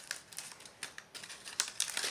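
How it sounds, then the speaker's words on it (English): Scissors snip through dried corn husk, shaping a rounded piece for a gourd turkey craft; a run of crisp, crinkly cuts comes in irregular bursts, close and fairly quiet with no talking. "So we'll kind of cut with scissors like a rounded"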